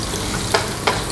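Onion being fried in a pan while cooking beef lomi: a steady background sizzle with two brief, louder crackling bursts as the pieces hit the hot oil.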